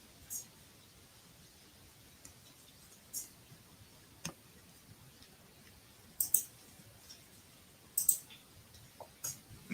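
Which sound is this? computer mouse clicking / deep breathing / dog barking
computer mouse clicking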